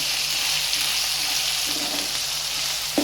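Tomato fries in oil with ginger garlic paste while being stirred, producing a dense, continuous hiss and sizzle with faint scraping, close and steady throughout.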